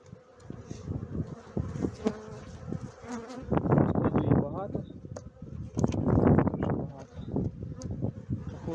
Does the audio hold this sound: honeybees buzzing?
yes